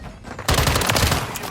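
Bursts of rapid automatic fire from the BAS-B gun in Modern Warfare 3, loud and close, starting abruptly after a brief quiet moment and rattling on continuously.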